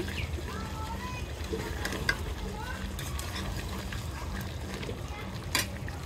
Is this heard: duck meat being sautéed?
yes